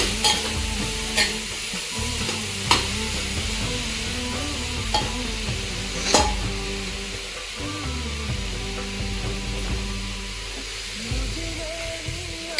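Grated carrots sizzle and fry in a pan while a spoon stirs them, with scraping clicks recurring every second or two, close and steady, no talking.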